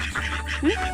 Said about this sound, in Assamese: আমাৰ হাঁহো আছে ইয়াত।